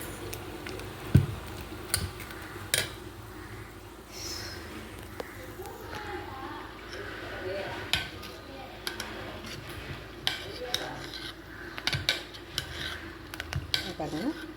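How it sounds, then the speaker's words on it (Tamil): Batter is stirred together with sautéed onion, carrot and salt, with soft scraping and scattered light clinks of a utensil against the bowl while a person talks. "இதை நம்ம வதக்கி வச்ச வெங்காயம், கேரட் இதெல்லாம் போட்டு கொட்டி மிக்ஸ் பண்ணி நல்லா உப்பு போட்டு கரைச்சி"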